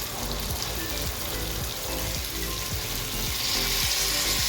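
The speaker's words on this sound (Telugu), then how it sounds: "ఎక్కువ ఫ్రై చేయకూడదు, ఎందుకంటే మనం బిర్యానీతో పాటు మళ్ళీ ఉడుకుతుంది కాబట్టి జస్ట్ ఆయిల్ కొంచెం ఫ్రై చేసుకుంటాం." Raw jackfruit pieces, already boiled, fry in oil for biryani with a steady, close sizzle and crackle running the whole way through, plus a few soft scraping stirs and no talking.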